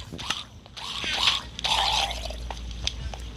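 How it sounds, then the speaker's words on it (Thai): A Minecraft drowned, the water zombie, lets out a wet, gurgling groan with soft bubbly squelches, fairly faint beneath low game background noise. "เมื่อกี้เหมือนได้ยินเสียงซอมบี้น้ำอีกแล้ว"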